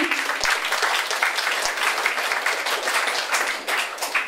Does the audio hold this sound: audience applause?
yes